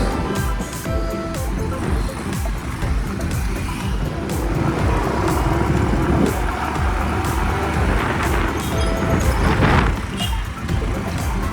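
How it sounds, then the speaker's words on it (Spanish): Steady engine drone and road rumble from a moving motorcycle in Lorica, Colombia, with wind noise and passing traffic throughout. "Seguimos en moto."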